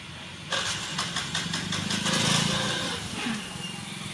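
A scooter being started for a beginner's riding lesson, its engine catching with a burst of rapid firing pulses that settle into a steady mid-pitched idle, fairly close and alone.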